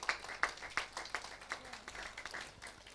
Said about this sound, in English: So if you could give these guys another round of applause before we finish.